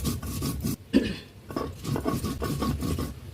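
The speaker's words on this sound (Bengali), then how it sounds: "আমি এবার এগুলোকে বেটে নিয়ে আসি।" Onion and ginger being ground into a paste by hand for a rohu fish curry, heard as close, rhythmic rasping and scraping strokes with brief pauses, no talking.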